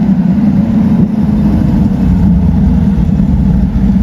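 A Chevrolet Corvette C8 Z06 with a Corsa exhaust rumbles loud and close, a steady deep engine drone that stays strong throughout with slight throttle wavering and no talking.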